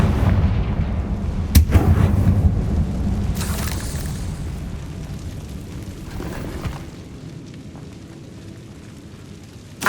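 Confringo blasting spells explode in Hogwarts Legacy, a heavy booming burst with sharp cracks near the start and a louder blast around four seconds, rumbling debris fading toward a quieter tail and a final pop.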